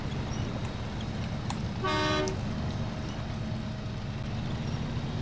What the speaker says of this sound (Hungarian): Mondjuk a dudát erősen nyomogatom